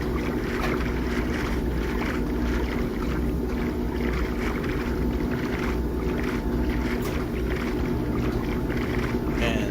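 Minecraft Bedrock Edition boat gliding across water, a steady loud wash of splashing and rushing water noise with wind-like hiss, continuous throughout with a faint voice at times.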